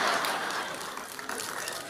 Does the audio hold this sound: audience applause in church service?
yes